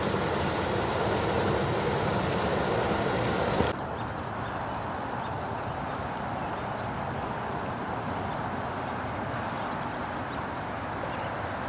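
River water flows beside a bridge campsite in a continuous broadband rush, loud at first and then a little quieter and duller after a sudden shift, with no voices.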